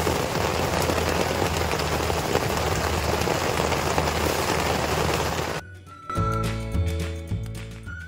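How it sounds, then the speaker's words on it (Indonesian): Steady heavy rain pours on a mountain campsite for most of the clip, then cuts to a quieter scene with scattered drips and soft tones. "Gak lama hujan turun."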